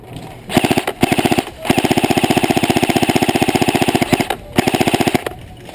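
A G&G F2000 airsoft rifle with RIS and foregrip fires long rapid full-auto bursts, a close buzzing chatter of shots in several strings separated by short pauses, during outdoor gameplay at a village field.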